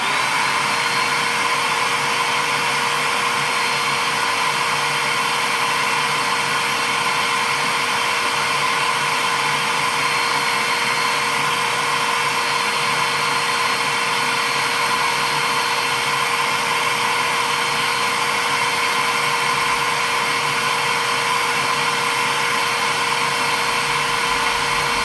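A Bissell Powerforce Helix vacuum cleaner motor runs continuously with a steady, even whine and airy roar, close and unbroken throughout.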